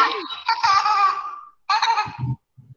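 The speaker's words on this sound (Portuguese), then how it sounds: "Risada de neném." A baby laughs in several high, giggly bursts with short pauses between them, heard close and clear.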